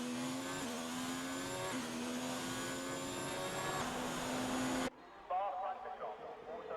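Formula-style race car engines drone in a video game during Belgian Grand Prix qualifying, a steady high whine with pitch shifts as the car accelerates, under a commentator's voice, then cutting to a quieter passage.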